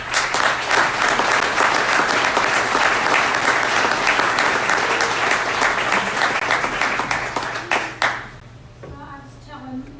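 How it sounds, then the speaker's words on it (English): Warm, loud applause and clapping from gathered family and friends for Becky at a celebration, sustained for several seconds before fading as a voice begins speaking. "let's give Becky a big round of applause"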